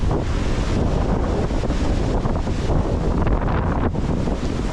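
Strong wind roars steadily across the microphone on a cycling trip through Karzakkan forest, Bahrain, a loud continuous buffeting rush with no voices.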